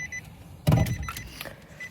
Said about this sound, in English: Stop beeping.